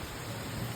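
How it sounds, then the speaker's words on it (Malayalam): Heavy monsoon rain pouring down in a short burst, a dense, even hiss with low rumbling underneath and no voices. "മഴയുണ്ട് മഴ നല്ല മഴ"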